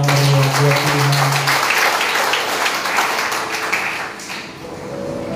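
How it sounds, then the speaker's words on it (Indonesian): Church congregation applauding at a worship service, a dense sustained wash of clapping that holds steady for several seconds before thinning slightly, with a low sustained instrumental tone underneath at the start. "Tepuk tangan yang meriah buat Tuhan."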